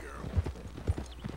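Horse hooves clip-clop in Red Dead Redemption 2, two heavy low thuds standing out amid faint background game ambience, with no clear whinny.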